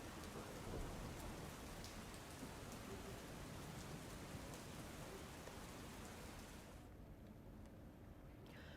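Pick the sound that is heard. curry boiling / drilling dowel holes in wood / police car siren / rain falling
rain falling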